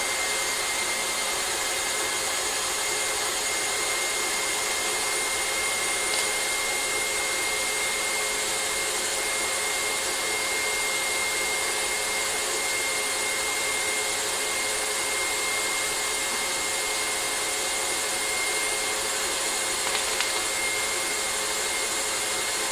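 An electric mixer runs continuously while mixing a chocolate treat, giving a steady, even whirring drone that holds at a constant level for the whole stretch without any talking.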